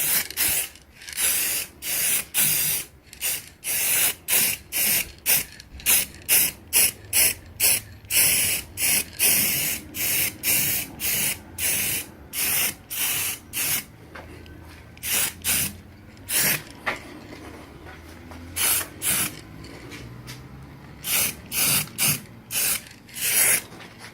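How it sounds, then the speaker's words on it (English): An aerosol can sprays light coats of paint onto a Pye PE39U radio in many short, loud hissing bursts with brief gaps between them, close and steady for the whole stretch. "So I'll just give it a coat of paint. I'll just put some light coats on."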